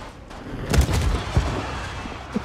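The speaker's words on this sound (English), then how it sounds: "What's he firing missiles at?" Missiles fire from a ship in the space game Star Citizen, heard as a few dull booms and thumps with faint rumbling between them.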